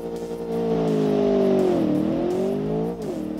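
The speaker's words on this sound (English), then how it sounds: "Nitblitzer has V8 muscle, but it doesn't really strike me as unique. It's a pretty simple cross-plane V8 rumble." A cross-plane V8 in the Nitblitzer Viper concept car rumbles with a strong, steady, close exhaust note that dips in pitch twice before easing off, heard alone with no talk.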